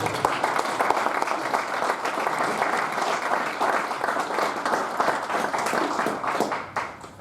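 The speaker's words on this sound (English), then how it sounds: "Can we give Angela one more round of applause" An audience gives speaker Angela Schumann another round of applause at a Catholic God & Beer gathering, dense sustained clapping filling the room at moderate loudness before tapering off at the end.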